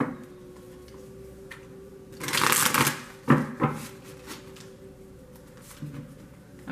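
Tarot cards shuffled by hand in a quiet room, a loud riffling burst of crisp paper flutter followed by a couple of sharper card slaps, then faint handling.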